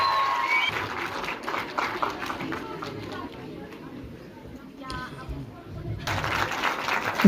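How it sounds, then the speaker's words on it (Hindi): Applause from an audience at a three-day outreach program's closing event, clapping rising and fading over several seconds amid crowd chatter and a voice. "जोरदार तालियां जाए आर्चो जबून के लिए।"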